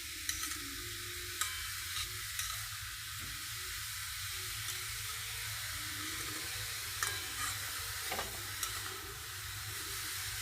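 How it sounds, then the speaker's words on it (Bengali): Carrots and sugar stirred together in a pan on a gas stove for carrot halwa, a steady soft sizzle with occasional scraping clicks of the spoon, no talking. "খুব ভালো করে চিনি আর গাজর মিশিয়ে নেব।"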